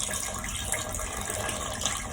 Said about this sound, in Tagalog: Paminawa ang agas sa among tubig